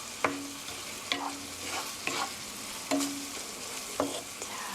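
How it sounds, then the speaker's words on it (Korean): Soy sauce sizzles in a hot pan while a utensil stirs it, with a steady frying hiss broken by five regular scraping strokes of the spatula, close up and with no talk. "간장의 향이 좀 볶이도록 이렇게 저어주시고요"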